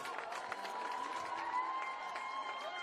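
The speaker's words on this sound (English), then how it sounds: "Look at the crowd behind the net, greeting Bartman and company." Soccer fans behind the net cheer and applaud a goal at a men's college championship semifinal, USF against UCF, a steady roar of clapping and shouting held at moderate, fairly distant level throughout.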